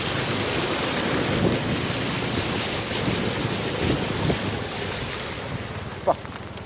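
Steady rushing floodwater over a road with a wind-buffeted roar that holds constant throughout, with faint higher chirps near the end.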